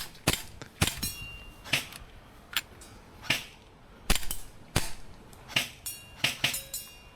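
An airsoft gas pistol fires a string of a dozen or more sharp, snappy shots in uneven bursts, each crack followed by a brief mechanical clack, with quiet gaps between.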